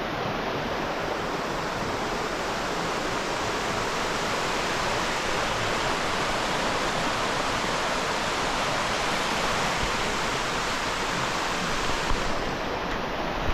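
River water rushes steadily and loudly as a bicycle crosses the river at a cycling checkpoint, forming a continuous broad roar with no pauses and no voices.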